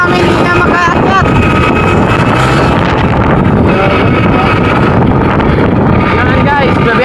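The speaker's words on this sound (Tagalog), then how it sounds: "Yung motor namin hindi na makaakyat." A motorboat engine labouring on an outing trip, a loud, close, continuous drone mixed with heavy wind buffeting, with people talking and calling out over it.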